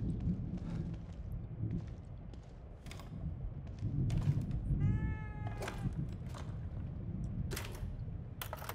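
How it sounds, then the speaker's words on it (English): A cat meows in the video game The Evil Within 2, a short rising and falling call around the middle, heard over a busy game soundscape of low rumble and scattered sharp hits. "What's up, kitty cat?"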